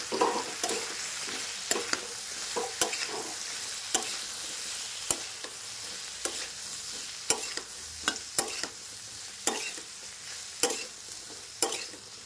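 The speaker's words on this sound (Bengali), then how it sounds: "এবার একটু নাড়িয়ে চাড়িয়ে নিই কড়াই।" A soybean, cauliflower and potato curry sizzles steadily in a wok while a spatula scrapes and clacks against the metal in regular strokes, roughly once a second, close up.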